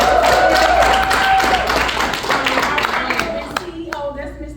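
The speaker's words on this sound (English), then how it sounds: "So I want you guys to give this man on the screen a round of applause." Scattered clapping and crowd noise from an audience at a travel business presentation, fairly loud at first and tapering off, with a few sharp individual claps and voices mixed in toward the end.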